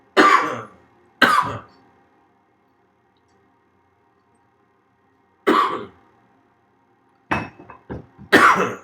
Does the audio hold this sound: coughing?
yes